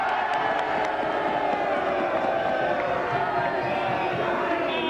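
A large crowd at a February 1974 British general election event cheers, whoops and applauds loudly and continuously for a Labour voter, a dense sustained roar with scattered claps.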